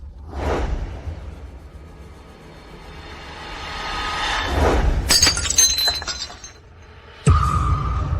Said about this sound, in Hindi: कितना बढ़िया एम्परर ग्रीन ब्रेसलेट था, बस ऐसे ही टूट गया